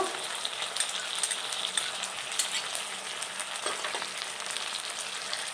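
Baby corn fries in a pan with red chilli sauce, tomato sauce and soy sauce, giving a bright, steady crackling sizzle with small spattering pops, close and uninterrupted by voices.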